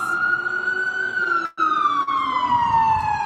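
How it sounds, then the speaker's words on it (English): An emergency vehicle siren wails loud and close on a very busy street, a sustained tone sliding slowly up and then down, with traffic rumble beneath and a momentary dropout partway through. "let's just wait for this siren to go down"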